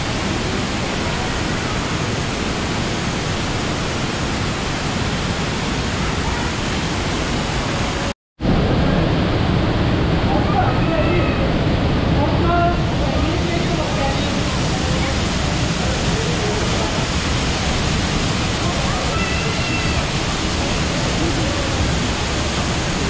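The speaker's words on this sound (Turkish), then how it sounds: "Şelaleyle bitmiş kanyon." Waterfall at the end of Sapadere Canyon near Alanya, Antalya: a steady, loud, broadband roar of falling water fills the whole span, with only a brief dropout partway through.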